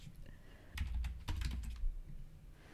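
Quiet typing on a computer keyboard while writing code, a brief flurry of soft, irregular key clicks and taps, faint and close.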